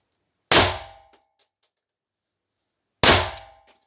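A blank gun fires two sharp, loud bangs about two and a half seconds apart. Each report rings out and fades, followed by a few small metallic clicks, in an otherwise quiet space.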